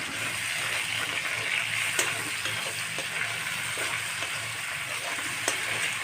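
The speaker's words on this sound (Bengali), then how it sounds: "এখন টমেটোটা দিয়ে দিচ্ছি।" Tomatoes tipped into a pan of well-browned fried onions for a mutton dish sizzle steadily, with a few stirring clicks and scrapes over a continuous hiss.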